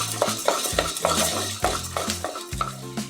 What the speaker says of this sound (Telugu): ఇప్పుడు ఇవన్నీ బాగా వేపుకోవాలండి